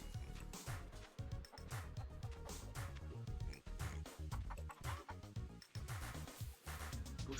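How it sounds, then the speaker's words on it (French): Chickens in a video game cluck in a busy string of short calls, mixed under loud game music and steady clattering effects. "Oh non, mais les poules, elles se sauvent."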